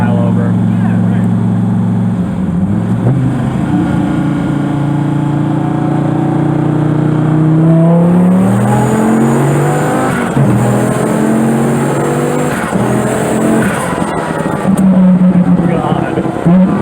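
A twin-turbo Dodge Viper tuned by Nth Moto pulls hard from inside the car, its engine note climbing loud and close through several surges of rising revs, with voices reacting over it.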